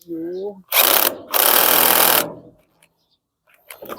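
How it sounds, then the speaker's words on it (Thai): Cordless drill with a nearly flat battery, two loud whirring bursts in quick succession after a brief spoken remark, with more talk fading in at the end. "สว่านแบตหมดเลย"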